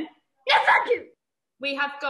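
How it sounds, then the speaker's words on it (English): A single loud sneeze bursts out mid-session on a live Zoom call during a balance drills class, and a voice starts speaking again shortly afterward. "somebody's sneezing there."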